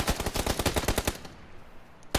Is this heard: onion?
no